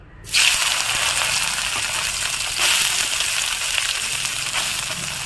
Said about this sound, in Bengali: এগুলো একটু লাল লাল করে ভেজে নেবো